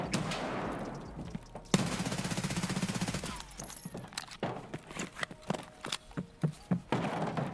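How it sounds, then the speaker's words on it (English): Gunfire in an SMG-focused shooter game: a long rattling automatic burst, then a series of separate muffled, suppressed-sounding shots in an irregular rhythm, moderately distant and fairly faint. "The shot sounded suppressed"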